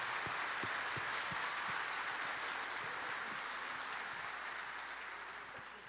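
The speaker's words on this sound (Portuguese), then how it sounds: "Pode aplaudir o Senhor." A church congregation claps together in a dense, steady patter of applause that slowly fades toward the end.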